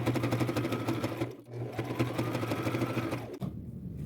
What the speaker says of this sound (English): I'm just going to sew the edges